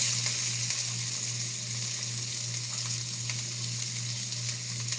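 A whole chopped onion softens in a hot pan, giving a steady, close frying hiss with a low hum beneath it and no talking.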